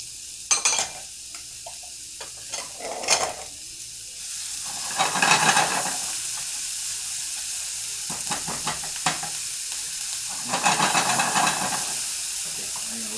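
Ham hits a hot frying pan with olive oil and peppers for a Denver omelet, bursting into loud sizzling hiss in waves, mixed with occasional scraping clicks of a utensil stirring the pan.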